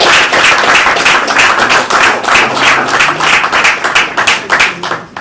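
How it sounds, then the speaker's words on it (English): Sustained applause from a crowd, dense clapping that holds steady for several seconds before tapering off near the end. "Please, a round of applause for him."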